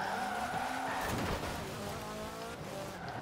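Car drifting and accelerating in Forza Horizon 4, a steady loud engine note with rising revs and tire squeal running throughout, close and continuous with no talk.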